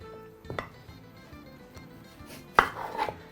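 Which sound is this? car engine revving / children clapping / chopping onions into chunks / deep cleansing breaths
chopping onions into chunks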